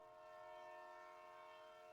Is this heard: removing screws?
no